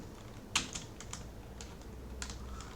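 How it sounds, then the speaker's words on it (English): A computer keyboard is typed on while code is entered, giving irregular light clicks and taps at close range over a low background hum, with no talk. "So start the typing"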